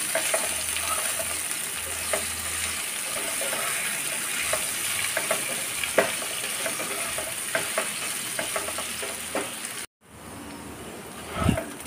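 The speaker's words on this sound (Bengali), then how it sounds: "হলুদ দিয়ে আমি লতিটাকে ভাজা করব।" Taro stolons frying with salt and turmeric in a pan over garlic, a steady close sizzle with occasional stirring scrapes, cutting off briefly near the end before a faint clatter.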